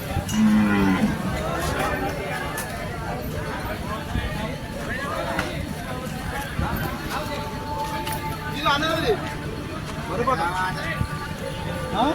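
Cows mooing repeatedly at a busy outdoor Sunday cattle market, with people talking throughout and occasional clattering in the background.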